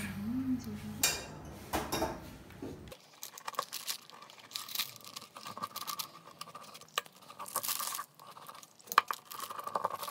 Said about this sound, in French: je vais les prendre une à une, puis on va les découper